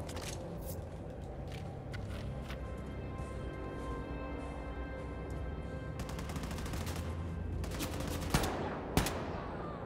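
Gunfire in the Wolfenstein II: The New Colossus shooter game, a faint, distant background of battle noise broken by sharp bursts of rapid shots near the end, with no talking.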